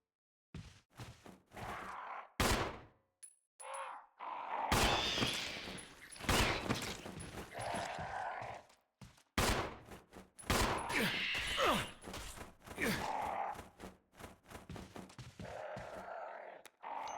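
Gunfire in the survival horror video game Resident Evil 1, a run of loud sharp game shots in uneven bursts, with groaning creature sounds between them and no talking.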